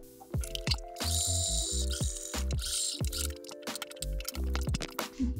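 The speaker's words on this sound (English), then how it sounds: "And let's top stitch it again, about 1 millimeter from the edge." A sewing machine top-stitches about 1 mm from a fabric edge while making over a children's IKEA Poäng chair. It runs a steady train of rhythmic mechanical pulses, close and clear, with no talking.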